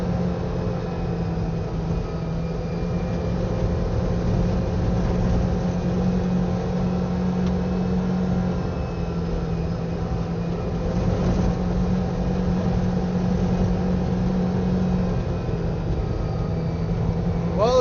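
A Kawasaki Ridge side-by-side rides along a trail, its engine droning in a steady, even hum that holds constant throughout, close and moderately loud with no voices over it.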